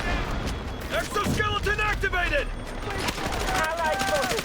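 Gunfire in the shooter video game Delta Force: rapid bursts and sustained automatic fire go on throughout, with excited players talking over the shooting.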